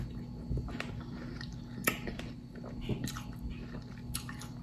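Crunchy seedless watermelon being bitten and chewed, with a few crisp, snapping bites standing out over soft, wet chewing sounds close to the mic, no talking.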